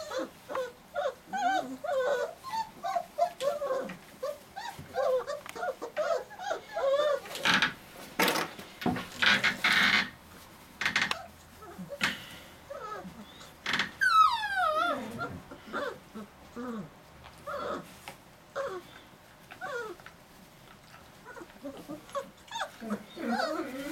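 Young puppies being weaned whimper and yelp in high, wavering cries, many overlapping up close, with clattering and knocking of a bowl mixed in throughout.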